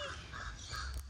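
A crow caws amid steady outdoor background noise, a short harsh call close by.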